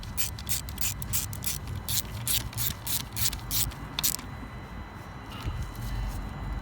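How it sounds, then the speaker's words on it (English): Screws being tightened on an Audi/VW 3.0/2.7 TDI repair bracket, a rapid series of sharp ratcheting clicks for about four seconds, close and fairly loud, then a quieter mechanical hum continues alone. "Place your second bracket on. Fully tighten both screws."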